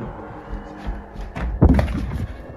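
A door slams shut with a heavy thud mid-clip, amid rustling and movement in a dark building during a paranormal investigation, with faint voices around it.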